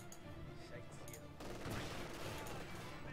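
Rapid gunfire rattles through a Company of Heroes 2 battle, dense overlapping machine gun bursts and rifle shots at moderate distance, growing heavier halfway through and sustained to the end.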